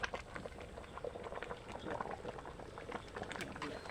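A homestyle Thai cassia leaf (khi lek) curry boils steadily in a pot, with close, continuous bubbling and popping throughout, and a voice talking over it.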